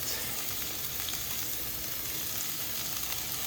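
Vegetables stir frying in a pan during home cooking, a steady dense sizzle that holds at an even level throughout with no voices.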